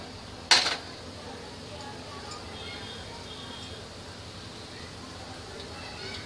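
Cumin seeds dropped into hot oil in a kadai while making Punjabi chole: one short, sharp crackle burst near the start, then a low steady background hiss.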